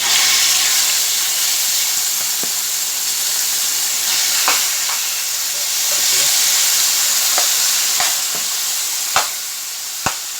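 Chicken pieces stir frying in a very hot pot give a loud, continuous sizzle with steamy hiss, broken by a few sharp clanks and scrapes of a utensil near the end, with no talking.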